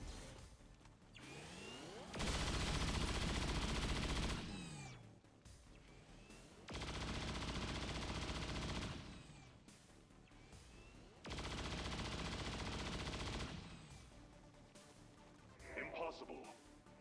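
Cyclic fire in XCOM 2 Long War of the Chosen, three separate loud sustained bursts of rapid gunfire, each lasting a couple of seconds, separated by quieter gaps with game sounds.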